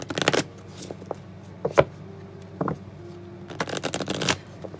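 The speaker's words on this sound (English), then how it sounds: "Shuffle and then cut." A deck of tarot cards shuffled by hand during a reading, crisp riffling bursts at the start and end with softer card taps and slides in between, close and without talk.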